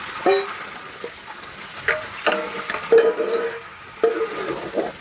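Food frying in a pan, with faint sizzling under a few close clinks and scrapes of a utensil against the pan at irregular intervals.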